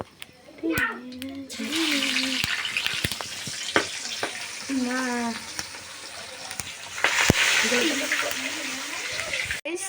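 Fish frying in hot oil in a home kitchen gives a constant sizzle and bubbling, heard beneath intermittent talking that includes a voice.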